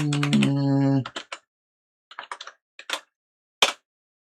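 Several quick computer keyboard keystrokes, clicking in short scattered bursts with gaps between them, heard right after a stretch of a sustained harmonic tone that may be a voice or hum.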